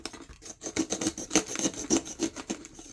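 A small, thin craft knife blade saws through lightweight mosaic board in quick, rhythmic rasping strokes, about a dozen close scraping pulses in under three seconds.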